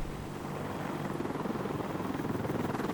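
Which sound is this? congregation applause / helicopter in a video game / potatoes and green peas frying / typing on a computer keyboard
helicopter in a video game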